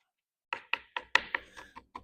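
A knife chops spinach on a board in eight crisp, fairly regular strokes over about a second and a half, close and distinct with no talking.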